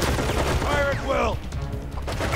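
Continuous gunfire in Resident Evil: Operation Raccoon City forms a dense, steady barrage throughout, with a voice briefly cutting in over the shooting.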